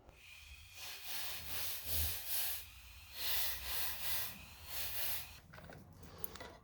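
A Dremel rotary tool lightly sands a 3D printed vertical license plate mount for an Indian Scout Bobber, giving close, repeated bursts of abrasive whirring and hiss with brief pauses between passes and no talking.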